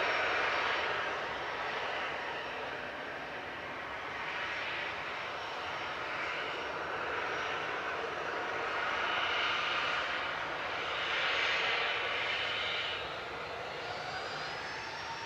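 Ryanair jet departing Manchester Airport, a sustained engine roar heard from a distance, swelling and fading in slow waves as the aircraft climbs away.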